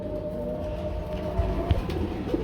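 Soft, low pigeon coos repeat a few times close by over a steady hum, with no talking.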